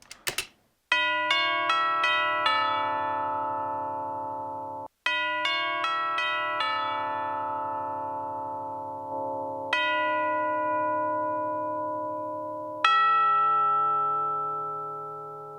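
Large resonant bells struck several times in sequence, each strike ringing out with long sustained harmonic tones that overlap and slowly decay, loud and close.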